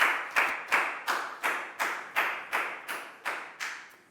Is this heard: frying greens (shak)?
no